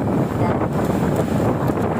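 Strong wind buffets the microphone in a steady, low roar with no letup.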